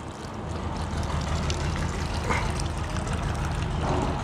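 Water is poured steadily onto a portulaca plant potted in soil, a close, continuous splashing and trickling wash that holds an even level throughout.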